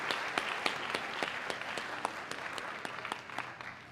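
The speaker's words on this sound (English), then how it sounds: "I want to applaud you all for what you have done to make this a great summer" An audience at a youth leadership election results announcement applauds, a dense, steady wash of many hands clapping with a few sharper individual claps standing out, sustained at moderate level throughout.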